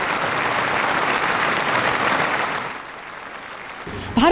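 A hall audience at the Nobel Peace Prize ceremony applauds in a dense, steady roar of clapping that fades after a few seconds to quieter room tone before a sudden sharper sound at the very end.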